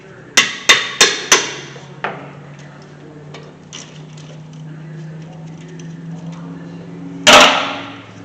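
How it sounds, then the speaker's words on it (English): Four sharp metallic hammer strikes on brake caliper bolts of a 2011 Ford F-150 ring out in quick succession, followed by a lone hit, a quiet pause with faint clinks, then a louder clang. "want to take the caliper bolts loose. Use a hammer, not your hand."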